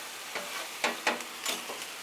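Teriyaki chicken with pineapple and onion stir-frying on a flat griddle, a soft steady sizzle broken by a few short scraping bursts, close and fairly quiet, without speech.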